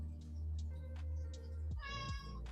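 A cat's meow from the video game Clangen, a short, quiet, nasal call near the end over a low hum, brief and alone.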